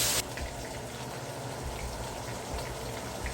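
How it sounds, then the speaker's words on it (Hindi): A little water is poured into a pot of rice with brown onion, a steady soft gushing and bubbling wash that runs evenly for a few seconds, close and unbroken by voices. "थोड़ा सा पानी डालेंगे"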